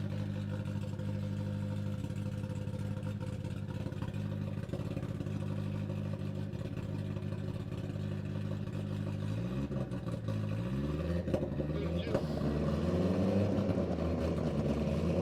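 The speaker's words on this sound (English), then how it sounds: "Streamliner powered by a pair of snowmobile engines." Gas streamliner powered by twin snowmobile engines making a run on the Bonneville salt flats, a steady droning engine with strong harmonics that shift and rise in pitch toward the end, heard from a distance.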